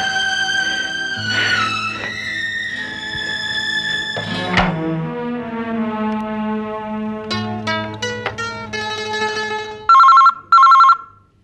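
A telephone rings in a TV drama scene, a sequence of electronic ringing tones and chimes ending in two loud bursts of bell-like trilling, with no talk over it.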